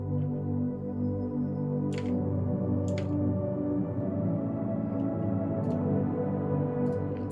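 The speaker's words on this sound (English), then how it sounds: "So first we have this string section here that sounds like this." The string section from the intro of a melodic dubstep song plays as a sustained, layered bed of warm bowed tones, with a few faint high clicks sprinkled over it.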